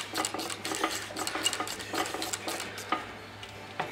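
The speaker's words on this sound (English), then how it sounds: "Now, all we've got to do is tighten up our top 18mm nut." A wrench tightens the top 18mm nut on a Ford shock absorber, producing a quick run of close metallic clicks and taps with faint workshop clatter.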